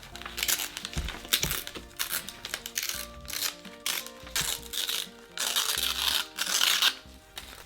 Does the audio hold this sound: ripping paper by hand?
yes